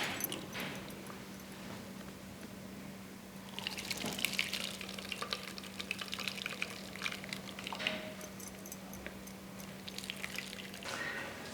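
Moringa leaf soup being strained, the liquid pouring and trickling through a filter in bursts, with dripping and splashing over a faint steady hum, close and quiet.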